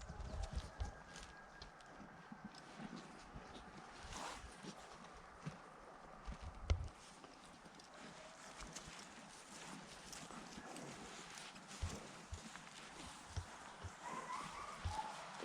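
Draft horses for sale in Ukraine walking outdoors, scattered hoof knocks and clip-clops over steady background noise at moderate distance, with occasional louder thuds.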